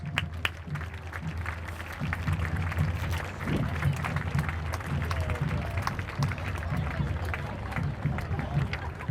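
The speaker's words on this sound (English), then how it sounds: "So please give them a nice round of applause." Spectators lining the route of a veterans parade in Lincoln, Nebraska clap in scattered bursts, with crowd murmur, street noise and a voice over a loudspeaker running throughout.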